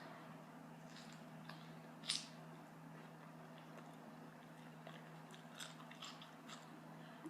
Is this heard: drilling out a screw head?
no